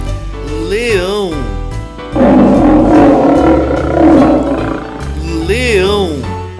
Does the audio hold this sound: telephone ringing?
no